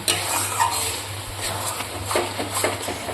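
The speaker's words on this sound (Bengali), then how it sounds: "ঘি দিয়ে একটু ভালো মতো নেড়ে চেড়ে নেব" A spoon stirs a thick moong dal and bottle gourd curry finished with ghee in a pan, soft continuous scraping and light sizzle with occasional metallic taps, close-up and without voices.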